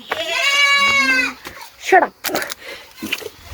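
Goats bleat in a long, wavering cry near the start, followed by shorter calls mixed with speech and rustling nearby.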